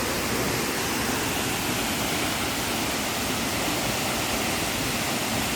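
The Tad Muang waterfall roars continuously, loud and broadband, a constant rushing wash of falling water with no voices.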